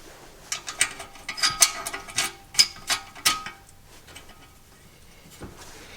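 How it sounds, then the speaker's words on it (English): Metallic ratcheting clicks as an Allen key turns the bracket screws of an LED light bar on a 2014-2018 Jeep Cherokee Trailhawk; a run of sharp, close clicks and taps, fading to quiet near the end. "So we'll just get this in. It's an Allen key."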